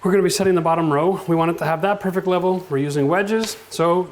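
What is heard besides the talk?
None of the usual background noises is heard.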